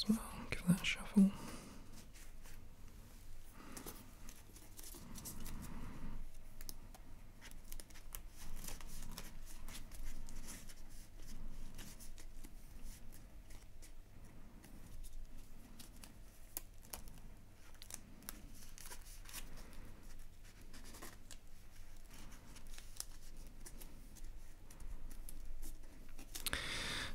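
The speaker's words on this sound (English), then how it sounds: "Give that a shuffle." Cards from a common deck being shuffled at a tabletop during a solo game of Imperial Settlers, a soft papery shuffling that runs on and off under quiet, close, whispery background noise.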